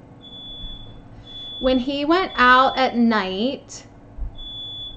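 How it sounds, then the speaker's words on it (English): A smoke alarm upstairs gives a thin, high, steady beep that is heard clearly before and after someone speaks, with the tone dropping away beneath his voice. "hold on, that is a smoke alarm upstairs"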